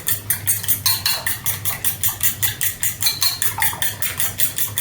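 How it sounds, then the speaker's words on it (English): Eggs whisked briskly in a bowl, a steady rapid clatter of the whisk against the sides, roughly four strokes per second, loud and close with no voice. "So let me just whisk this really good."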